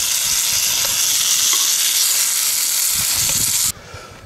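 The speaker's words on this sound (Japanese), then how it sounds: "揚げましょう。" Oil hisses and crackles loudly and steadily as food deep-fries at a solo campsite, a dense sizzle that cuts off abruptly near the end.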